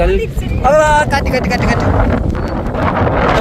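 Strong wind blows outdoors beside a river, roaring and buffeting loudly against the microphone throughout, with a brief voice and faint engine-like tone early on.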